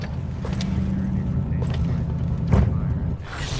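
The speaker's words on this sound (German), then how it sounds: "Ich lass den Motor laufen" A car engine idles in the video game Cyberpunk 2077, a steady low rumble that runs throughout with faint voices briefly over it.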